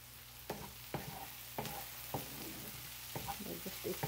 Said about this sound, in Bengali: এবার আমি এতে রসুন কুচি আর লঙ্কা কুচিটা দিয়ে দিলাম।